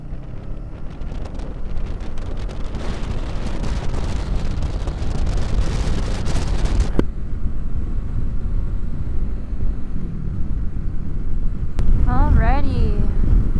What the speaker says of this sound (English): it's quite breezy out today